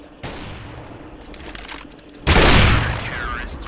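Sniper rifle fire in a competitive 1v1 tactical shooter match, with a sharp shot onset and a second loud, broadband blast later, set against a steady background of game noise and faint commentary.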